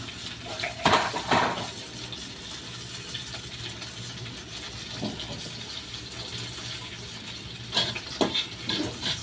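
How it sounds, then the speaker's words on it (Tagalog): Garlic sautéing in a home kitchen pan gives a continuous oily sizzle, with sharper bursts of stirring and utensil scraping near the start and again toward the end. "igisa na natin itong bawang"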